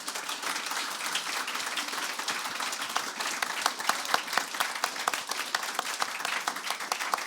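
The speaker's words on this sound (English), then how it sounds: "At first, a big applause of all these people" A large audience at a game development conference breaks into sustained applause, dense overlapping clapping that stays loud and steady throughout with a few sharper claps standing out near the end.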